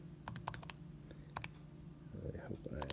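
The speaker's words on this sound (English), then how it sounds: "I really hope I am typing all of this in correctly" Calculator buttons pressed in quick succession while working a math problem, a rapid series of sharp clicks early on, then a few more taps over a low background hum and some shuffling.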